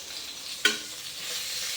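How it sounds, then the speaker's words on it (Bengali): Eggplant frying in a pan on a home stove, a soft continuous sizzle with one brief clink of stirring near the start, close by and without talk. "এদিকে আমার বেগুন ভাজা চলছে"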